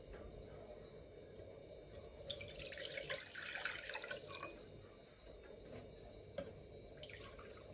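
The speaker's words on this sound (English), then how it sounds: "Pour in the water." Water poured in for homemade sweetened condensed milk, a steady broadband splash that swells for a few seconds in the middle over a quiet kitchen background, with a brief drip-like accent near the end.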